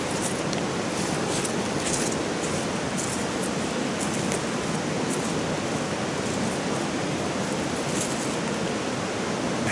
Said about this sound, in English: We got a lot of water coming down here